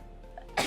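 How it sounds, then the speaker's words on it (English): A single short sneeze bursts out abruptly at the end after a quiet moment, close and sharp with no talking around it. "One sec, I have to sneeze."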